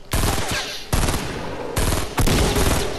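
Loud gunfire in a video game fight cracks out in four heavy, evenly spaced blasts, each followed by a ringing decay.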